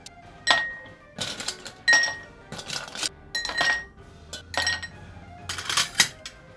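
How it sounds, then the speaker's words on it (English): Ice cubes clink and rattle into a glass for a chilled shot, in several bright, sharp bursts of clatter separated by brief pauses, close and fairly loud. "simply take some ice cubes,"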